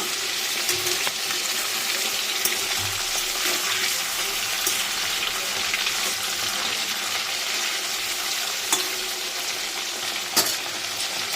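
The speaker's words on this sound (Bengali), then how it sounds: "তাই মাথাগুলো একটু ভাজা হোক," Bhetki fish heads sizzle and crackle steadily in hot oil in a pan, a continuous close frying hiss with occasional sharper pops, no voices.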